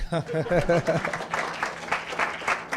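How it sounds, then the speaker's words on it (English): Scattered audience clapping at a Kenyan transport official's speech on new taxi company guidelines: a voice speaks briefly at the start, then loose clapping follows, moderately loud. "you can clap if you want."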